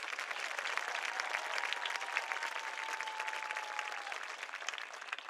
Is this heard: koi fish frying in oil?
no